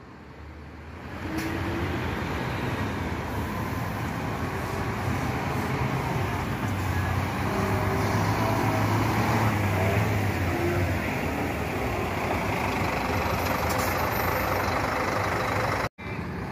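Catarinense coach bus idling at Curitiba bus station, a loud steady diesel engine rumble that starts after a brief quiet moment and holds throughout, with no talk.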